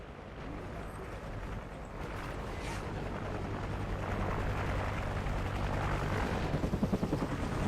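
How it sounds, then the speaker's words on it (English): A friendly helicopter in a shooter video game, its steady rotor roar holding loud and continuous throughout and building toward a rhythmic thudding chop near the end, with no talk over it. "Friendly chopper inbound."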